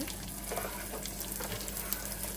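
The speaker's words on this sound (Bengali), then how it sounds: "তো এগুলোকে আমরা এভাবে ভেজে নিব" Pistachios, cashews, dates and raisins fry in a pan for sheer khurma, with a steady low sizzle and faint stirring scrapes throughout.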